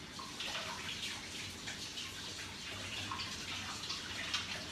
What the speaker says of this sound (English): I'm gonna wash my hands real quick for you guys.